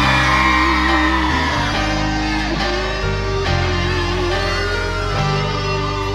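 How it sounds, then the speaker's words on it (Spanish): Girls in a concert crowd scream and shout loudly and continuously over live music, a dense wall of cheering voices from start to finish. "Vamos al grito de las chicas enamoradas esta noche."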